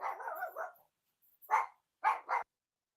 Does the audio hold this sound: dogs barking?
yes